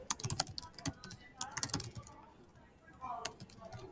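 Keystrokes tapped on a computer keyboard while renaming a classroom homepage, two quick bursts of clicks separated by a pause, fairly close and moderately quiet, with faint room sound between.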